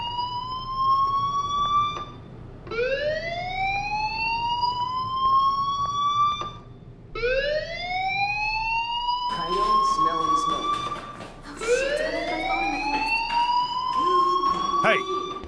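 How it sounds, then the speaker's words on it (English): A school fire alarm in the video game Life Is Strange blares in loud, repeated rising electronic whoops, each sweep climbing and cutting off before the next, with talk joining in over the later cycles. "Do you hear that fire alarm? That means you should be outside."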